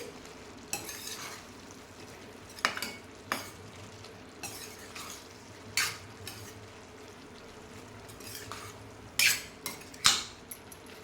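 A spoon stirs ground coriander and cumin through a curry base in a pan, producing scattered scraping strokes and occasional metallic clinks over a faint, steady sizzle, with no talking.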